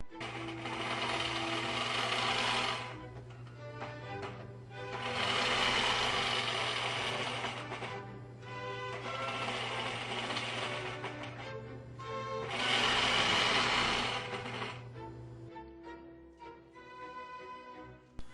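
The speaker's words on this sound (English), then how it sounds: "Listen to the stitching sound as we step between the rays." A sewing machine stitches between the rays of an orange-slice design in four bursts of fast, close mechanical chattering, separated by short pauses, over a steady low motor hum that stops near the end.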